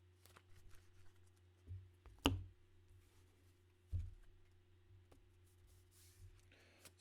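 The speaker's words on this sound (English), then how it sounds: "So those 5 cards get shuffled back into the deck." Yu-Gi-Oh trading cards are shuffled back into a deck, heard as quiet, scattered flicks and a few sharper riffling snaps close by, with soft handling noise between them and no talking.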